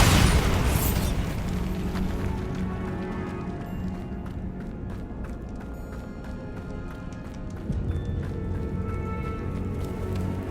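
A Bombarda blasting spell detonates in the video game Hogwarts Legacy: a loud, close burst at the very start, followed by a long rumbling tail of settling debris and game ambience.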